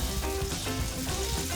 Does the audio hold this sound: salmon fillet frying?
yes